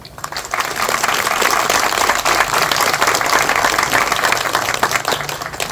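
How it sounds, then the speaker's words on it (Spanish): An audience gives loud, dense applause for the Spanish ambassador at a Bolivian event, a steady wash of many hands clapping that swells quickly, holds and then tapers slightly. "el embajador Fernando García, a quien pido un aplauso."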